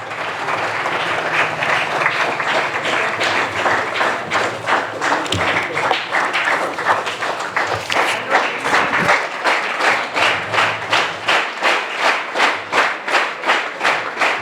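Loud, sustained audience applause at an army academy felicitation for a soldier and his parents, dense clapping from a crowd with rhythmic bursts toward the end, no speech over it.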